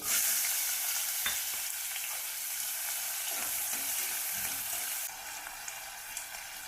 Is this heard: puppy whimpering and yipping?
no